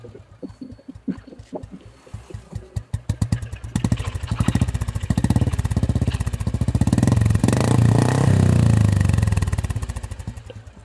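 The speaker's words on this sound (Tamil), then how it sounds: "66 வருஷம் ஓல்டு புல்லட், பெட்ரோல் புல்லட்" A 66-year-old petrol Royal Enfield Bullet motorcycle is kicked over and starts, its single-cylinder engine catching with uneven thumps before settling into a steady, loud, close thumping idle that rises with throttle.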